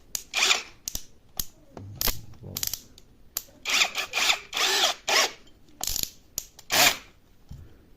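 A cordless screwdriver drill fitted with a large battery whirs in repeated short bursts, close and loud, with a ratcheting clutch texture and brief pauses between runs.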